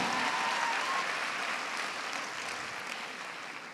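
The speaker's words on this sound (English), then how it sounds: "You can give them another round of applause." A university welcome ceremony for first-year students fills with steady, sustained audience applause, dense and even throughout before tapering slightly at the end.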